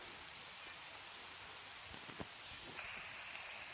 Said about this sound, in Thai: ฝนตกหนักพี่น้อง